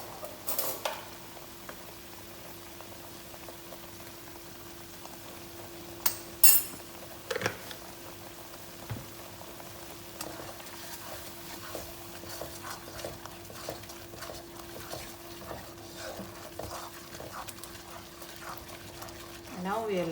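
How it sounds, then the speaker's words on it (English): Curry with coriander and fish curry powder simmers in a pan with a soft, steady sizzle under a constant hum, broken by a few sharp clinks of a utensil against the pan. "Now we will let it cook until the oil separates."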